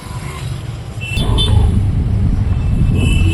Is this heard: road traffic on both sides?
yes